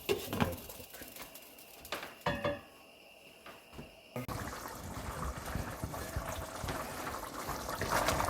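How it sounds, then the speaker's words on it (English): Water poured into a pot of goat curry, a running liquid wash that starts quiet and swells louder and steadier toward the end, with a few earlier clinks and splashes. "So 1 more cup of water, give it a little stir, and we'll cook."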